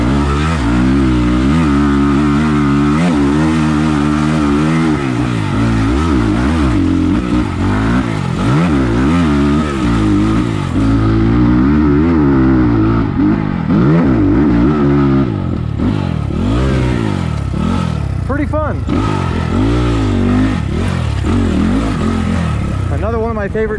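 A 2022 SSR SR300 Chinese dirt bike engine runs steadily near and loud, with a rough, pulsing mechanical note that shifts in pitch throughout.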